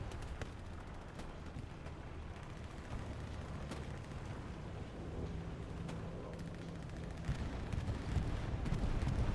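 Bombs from a bombing run in Hell Let Loose rumble continuously at a distance, with scattered sharp impacts and booms that grow heavier toward the end.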